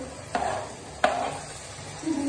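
Tomatoes frying in a pan, with a steady soft sizzle under two sharp scraping stirs of a utensil, close and fairly quiet.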